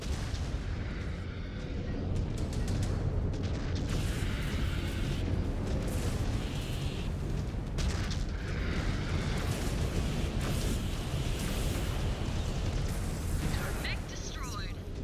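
Missile barrages and explosions rumble through a Mechwarrior 5: Clans mech battle, a dense, continuous roar of booms and blasts layered over one another at high volume with no pause.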